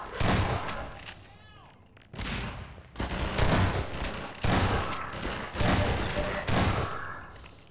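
Shotgun blasts in Half-Life 2, several loud booming shots in quick succession with brief gaps between them, each one heavy and reverberant amid chaotic in-game combat noise.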